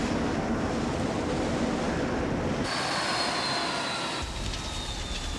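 F-16 fighter jets fly overhead in a loud, continuous broadband roar that shifts in tone midway, with no voices.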